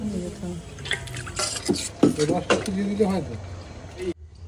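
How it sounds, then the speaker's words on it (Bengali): Water splashes and drips as a metal wok (kadai) is rinsed by hand in a busy home kitchen where food is being cooked for about 35 guests. Voices talk over the close, irregular splashing throughout. "না না, আমি জল দিয়ে ধুয়ে নিচ্ছি।"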